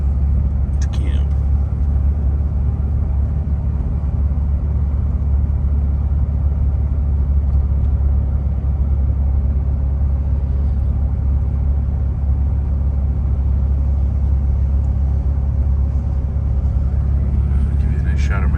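Inside a Vanagon camper van driving past campgrounds near Seward, Alaska. A steady, loud low engine drone and road rumble continue unbroken, with faint voices or cabin sounds now and then.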